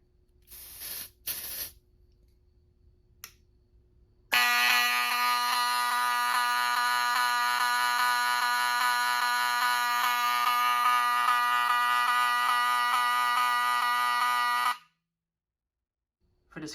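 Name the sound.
BRK smoke detector alarm sounding on Fire-Lite Miniscan 4824 panel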